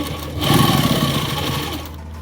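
A sewing machine stitches lace onto fabric, a steady close motor whir with a rapid rhythmic needle clatter running throughout the short clip, without speech.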